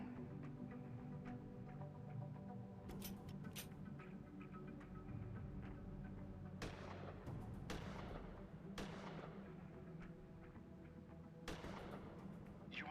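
Several sharp gunshots ring out in Gemini Rue at a shooting target, spaced irregularly over a steady low background hum, with no talking.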